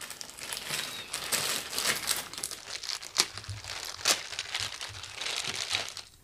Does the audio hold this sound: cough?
no